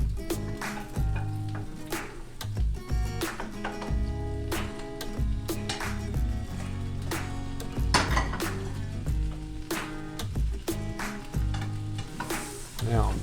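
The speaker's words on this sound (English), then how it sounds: "we're gonna cover the egg, let that steam for a little bit." Spinach egg omelette cooking in a covered pan, with a busy mix of steady sizzling and frequent metallic clinks and clatters of pan and utensils.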